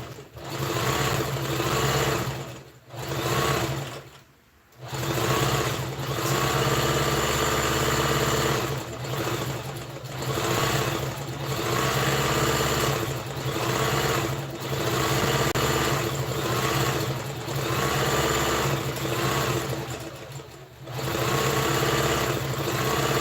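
Electric sewing machine running steadily through organza to sew gathering stitches for a ruffled sleeve, a continuous close whirring hum with a few brief pauses between runs.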